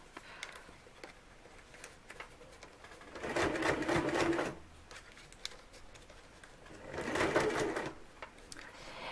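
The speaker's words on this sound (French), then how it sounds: "je continue à faire mes plis, à coudre" Sewing machine stitching through folded paper ribbon in two sustained whirring runs, steady and close, separated by quieter handling sounds.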